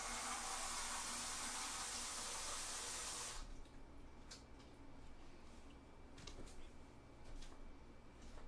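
Water runs steadily from a tap in a loud, even rush, then shuts off after about three seconds, leaving a faint room hum with small clicks.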